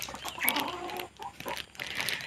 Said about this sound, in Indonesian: ayam makan.